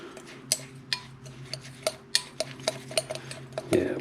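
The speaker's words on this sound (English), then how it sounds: "Mix it up." A spoon scrapes and clinks against a bowl while stirring a dry rub spice mix for beef jerky, giving a series of sharp, irregular taps and light scrapes close by in a quiet kitchen.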